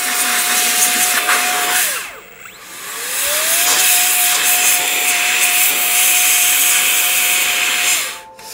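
A Pafolo electric air duster blows dust off mineral specimens with a loud, steady motor whine and airy hiss. Partway through it briefly winds down and spins back up, then cuts off near the end.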